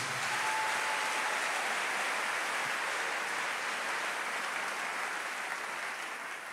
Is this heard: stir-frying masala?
no